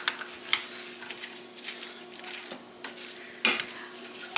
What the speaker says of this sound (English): I'm just going to give this a stir and make a huge mess in the meantime